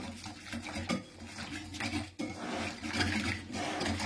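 Dough for sfenj doughnuts being stirred in a bowl after flour is added for fermentation, giving a steady scraping and sloshing sound close up with a brief pause midway and no talk.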